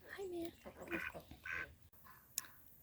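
Ducks quacking happily beside a new farm compost heap, a handful of nasal, raspy quacks in quick succession close by, then a brief sharp squeal near the end.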